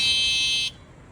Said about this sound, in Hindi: बट हॉर्न क्यों दबा रहा है?